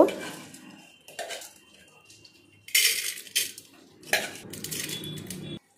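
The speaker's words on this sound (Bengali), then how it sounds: "আমি এখানে প্রেসার কুকারটা নিয়ে নিয়েছি। এবার আমি ধুয়ে রাখা ডালটাকে দিয়ে দেব।" Washed masoor lentils go into a pressure cooker, with several bursts of metallic clanks and scraping of utensils against the pot separated by quieter pauses, close and clear.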